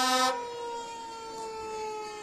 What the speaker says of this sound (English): Sirens, lots of sirens.